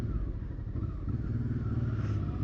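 A Honda XL650V Transalp motorcycle on Pirelli Scorpion MT90 tyres riding in tight circles, a steady low engine drone at modest volume with a slight rise near the end.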